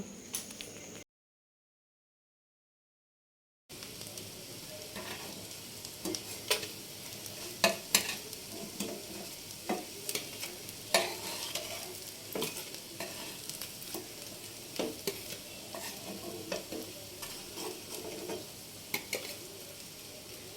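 Homemade fish fingers fry in a pan with a steady, close sizzle of hot oil, broken by occasional stirring clicks and scrapes, after a brief silence near the start.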